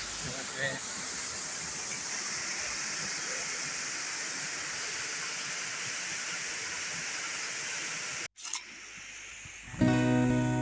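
A waterfall in a Thai national park roars as a dense, continuous rush for about eight seconds, then cuts off and is followed by brief handling noise and a fainter rushing tail.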